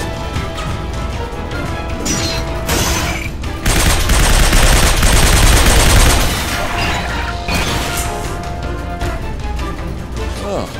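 Heavy weapons fire in Binary Domain pounds in dense bursts, with a louder stretch of booming crashes midway, while characters talk over the combat.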